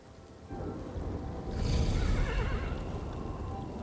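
A horse whinnying in the video game Kingdom Two Crowns, a loud neigh rising midway over a rumbling, rain-like background of ambient game sound.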